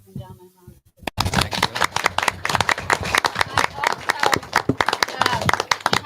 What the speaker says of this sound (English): Can we give these ladies and gentlemen a round of applause?